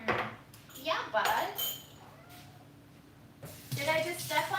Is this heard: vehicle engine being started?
no